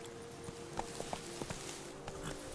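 Horse hooves clip-clopping at a steady walking rhythm while riding through palace gardens in The Witcher 3, moderately close over a low ambient game bed with no talk.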